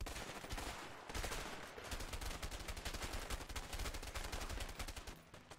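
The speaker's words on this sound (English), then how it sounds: "Sir, stop shooting me in the face," Rapid, evenly spaced gunshots in the co-op video game A Way Out, fired in sustained bursts at low overall volume, with a brief lull near the start and a tapering at the end.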